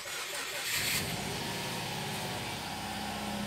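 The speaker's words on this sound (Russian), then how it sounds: "Автомобиль только сейчас завелся." A car engine cranks and catches using a homemade jump-starter booster built from 18650 lithium cells alongside the car's own battery, on a cold engine, then settles into a steady, close idle hum.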